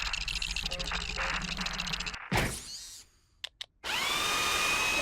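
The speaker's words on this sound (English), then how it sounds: "Let me look at that drill." A drill whirring in the Ratchet & Clank video game, a buzzing mechanical whine with fluttering texture, then a sharp cutoff, brief clicks and a renewed bright electronic tone.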